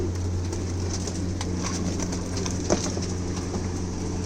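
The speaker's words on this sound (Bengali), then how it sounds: "এই যে এগুলো প্রত্যেকটা খাঁচার ভিতর কবিতর, এক খাঁচায় তিনটে করে আছে।" Caged pigeons, three to a cage, coo softly in a room with a steady low background hum. The calls are low and continuous, sit close, and no one talks over them.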